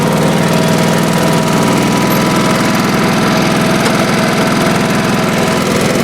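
A 1986 Honda HT3810 lawn tractor engine runs steadily and loudly up close, a continuous rough mechanical drone with constant vibration and no talk.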